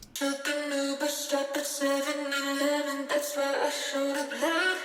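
Sung lead vocal drenched in Valhalla VintageVerb reverb, a sustained melodic line with smeared, airy tails blending between phrases, fairly loud and alone without speech.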